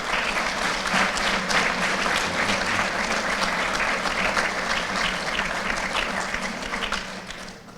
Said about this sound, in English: I just want to give them a quick round of applause from everybody.